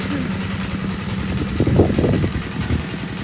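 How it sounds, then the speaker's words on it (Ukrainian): A tractor engine rumbles steadily nearby and swells slightly louder as it passes, then keeps droning. "Трактор проїде, буде чутніше."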